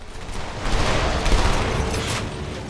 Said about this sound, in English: Gunfire sounds seem pretty good.